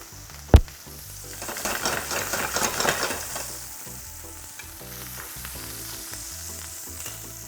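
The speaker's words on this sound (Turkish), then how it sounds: "Kızgın yağla sürekli ürünümüzü alt üst ediyoruz." Chicken frying in hot oil in a pan as it is turned over and over, a steady crackling sizzle with a sharp clatter near the start, close and continuous with no talking.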